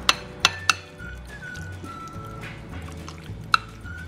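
Green beans and chicken being stirred together in a pan, with a few sharp metallic clinks of the utensil against the pan over a low sizzling background, no talk.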